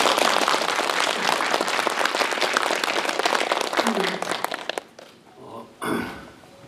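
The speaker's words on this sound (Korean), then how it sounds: "박수 쳐주세요." Audience applause at a film screening Q&A for the movie Harbin, a loud dense burst of clapping that fades out abruptly near the end, leaving a few scattered rustles.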